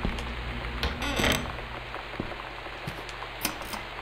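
Steady rain downpour in the video game Gone Home, a dense even hiss of falling water with scattered small taps and thumps from the player moving around, no speech.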